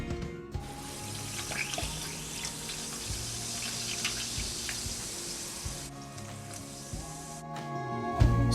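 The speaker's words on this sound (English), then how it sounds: "Then top with soda or sparkling water." Soda or sparkling water is poured steadily over ice into a mango mojito, a continuous close splashing, fizzing stream lasting several seconds over soft background music.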